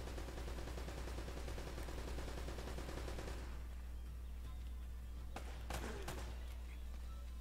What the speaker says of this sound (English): who the God dang fuck is shooting at me